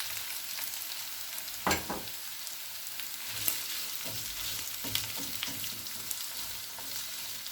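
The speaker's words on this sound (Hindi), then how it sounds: "प्याज को भी तकरीबन 2 से 3 मिनट के लिए भून लेंगे।" Chopped onions fry in a pan over medium-low flame for a pasta dish, a steady soft sizzle with a few brief spoon scrapes and knocks against the pan, close up and with no talking.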